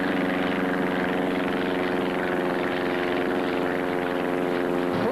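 Steady, loud engine drone from inside a BAE Hawk jet trainer in flight, a continuous tonal hum with no breaks throughout.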